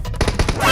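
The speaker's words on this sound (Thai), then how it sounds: "เมื่อกี้มีเสียงปืนอยู่เลย" A rapid burst of gunfire in the mobile video game PUBG Mobile, about half a dozen sharp shots in quick succession, loud and close.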